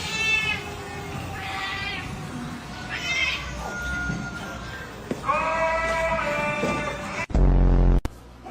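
Repeated drawn-out cat meows, some rising into yowls, close and loud, with a burst of louder noise near the end.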